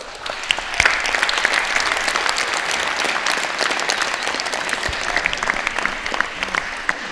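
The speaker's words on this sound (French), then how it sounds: "Moi, à votre place, je les applaudirais bien fort" An audience applauds judo students and their teachers at a judo gathering in Coppet in June 2014. The clapping is dense, steady and close, lasting the whole stretch, with no one speaking over it.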